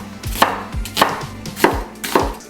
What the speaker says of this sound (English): we need to chop up our onions